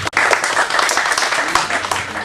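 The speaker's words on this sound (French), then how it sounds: "on peut l'applaudir." Audience applause at a crime-fiction book fair, a brisk burst of many hands clapping close by, with voices mixed into the noise.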